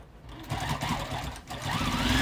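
A domestic sewing machine stitches a quilted bag with a steady, low, fairly quiet motor whir and needle chatter. The run pauses briefly midway, then resumes.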